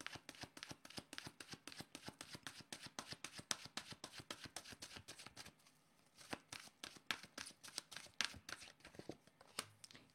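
Oracle cards riffle and slap in a fast, steady run of crisp shuffling strokes, close to the microphone and quiet, with a brief pause midway before the rhythm resumes.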